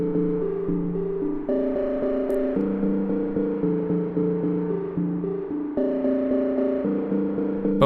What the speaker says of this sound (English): Megaverb's distinct lo-fi settings ranging from analog and digital add a really great grit to your reverb